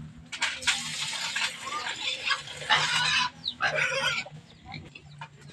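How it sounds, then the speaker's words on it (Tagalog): Pigs grunt and squeal in bursts, close by, with chickens clucking and faint voices in the background. "yabaw sa kayang baboy ni Nini guys"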